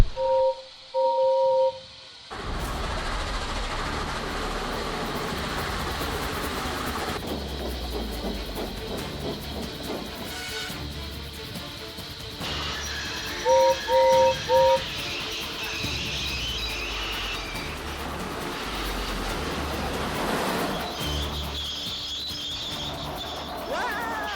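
A steady rushing hiss of a passing train with rumbling undertone, punctuated by short whistle toots at the start and midway.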